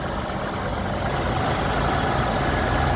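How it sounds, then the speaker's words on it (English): A 2005 Ford Escape engine idles smoothly and steadily at close range, a constant low hum with no voices. "Okay, shot of the motor running."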